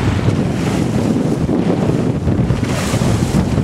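Strong crosswind roars over a sailing boat at sea off the Turkish cliffs, heavy buffeting wind noise mixed with rushing waves, loud and constant with no voices.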